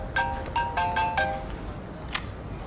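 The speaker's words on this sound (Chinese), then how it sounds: "啊，电话。" A mobile phone ringtone plays a short melodic tone sequence in several bursts, then stops, followed by a brief sharp click near the end.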